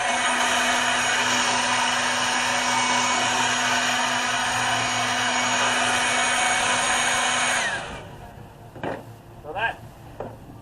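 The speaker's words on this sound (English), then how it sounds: "So let's use this thing right here to blow this baby off." A handheld air blower runs loud and steady, blasting dust off a wooden table for about eight seconds before cutting off, leaving brief clatter and movement noises.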